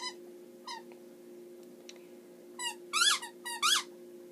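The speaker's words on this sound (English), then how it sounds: "Sorry, that squeaking noise is my dog, Lulu." A dog squeaks and whines for attention in a quiet room, a few short squeaks early on, then a louder cluster of rising cries near the end over a steady low hum.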